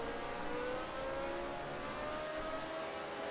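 Lotus Type 25 racing car engine in Project Cars 2 at Brands Hatch Indy, held at steady, fairly low revs with a constant mid-pitched drone and a slowly rising tone, continuous and close throughout.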